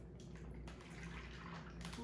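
Ice cream ingredients, including sugar, are poured from a bowl into a bag in a soft, continuous liquid trickle that stays low and steady throughout.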